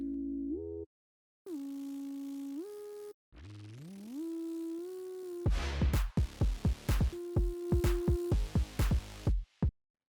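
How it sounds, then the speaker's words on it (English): A buzzy synthesizer phaser lead preset glides between pitches with a sweeping, phased tone, then breaks into rapid stuttering electronic hits. "I want to sort of get that phaser lead in there as well."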